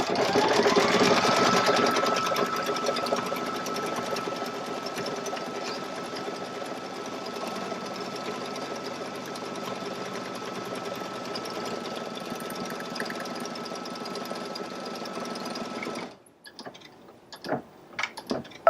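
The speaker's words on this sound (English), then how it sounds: "we're going to stitch the placement line for the small or inner heart." A sewing machine stitching a heart placement line on a fabric table runner, a loud continuous motor whir with fast needle chatter running about sixteen seconds before cutting off, then a few soft handling clicks.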